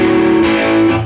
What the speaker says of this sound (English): if we didn't use the palm muting, it would sound like this